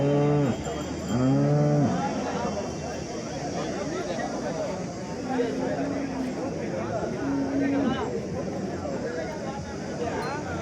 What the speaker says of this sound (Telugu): బాగుంది ఆవు.